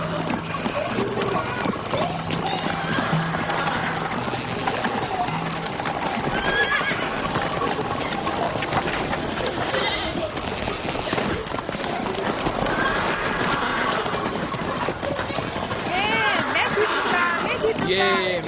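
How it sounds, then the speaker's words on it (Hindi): A horse whinnies and hooves clatter at a run in a period drama scene, with voices and busy background sound running steadily underneath. "मेरा घोड़ा ले जाओ।"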